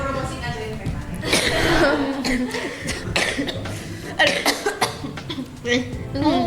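Several rough coughs from a sick speaker break up animated podcast talking, mixed with chuckling, close to the listener.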